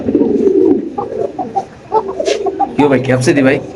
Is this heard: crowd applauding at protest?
no